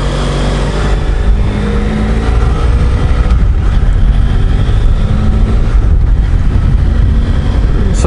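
A Ford Ranger pickup truck drives by, its engine a loud, steady roar that fills the whole stretch with dense road and motor noise and no break.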